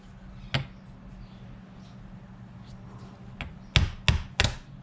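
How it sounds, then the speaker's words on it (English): Sharp metallic taps from a small toffee hammer during Jaguar MKII reassembly: one early strike, then a cluster of three quick knocks near the end, close and fairly crisp. "My little toffee hammer."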